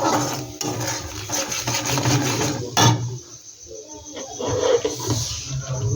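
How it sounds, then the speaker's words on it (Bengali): Cumin and coriander powder being sautéed in a pan, a close, rough scraping and rubbing from stirring over a busy sizzle that rises and dips in uneven waves. "এটা এবার আমি একটু ভালো করে কষিয়ে নেব।"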